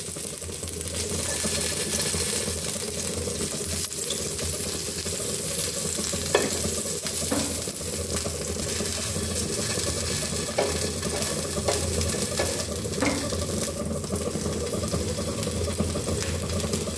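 Kutchi dabeli buns stuffed with filling frying in a pan, giving a dense, constant sizzle with occasional light clinks and scrapes of turning, close and steady throughout.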